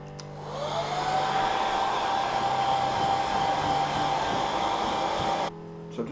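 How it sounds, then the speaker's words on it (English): A hair dryer blows steadily on fresh paint on a pink Proline VW Bug Baja RC car body, a loud continuous whir with a rising tone at start-up that runs for about five seconds, then cuts off, leaving quiet room noise. "can use the hairdryer again to dry this off"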